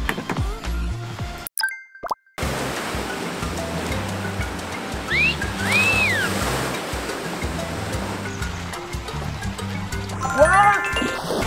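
Wave pool at a water park, with steady splashing and surf-like water noise throughout and loud excited voices of people talking and shouting over it, plus a brief dropout near the start.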